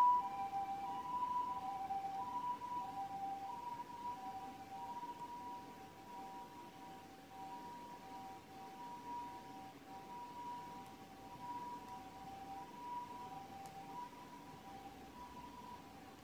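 A faint, distant ambulance siren wails steadily in an alternating two-tone pattern, continuous and low in level against quiet background noise.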